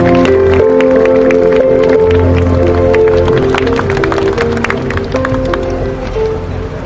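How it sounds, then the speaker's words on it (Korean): An outdoor audience at a June 10 uprising commemoration rally gives sustained applause that holds steady and fades slightly toward the end, with scattered crowd noise mixed in. "역시 힘찬 박수로 맞이해 주시기 바랍니다."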